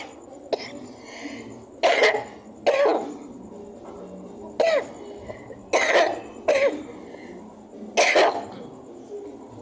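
Several harsh coughs and throat clears break out at irregular intervals, fairly close, over a quiet background hum.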